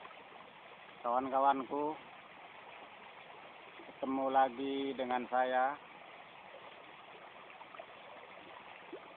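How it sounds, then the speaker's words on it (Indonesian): A river stream in Banten flows with a steady, broad rush of water, and someone speaks over it in two short bursts. "Kali ini saya sudah berada di sungai, di sebuah sungai daerah Banten"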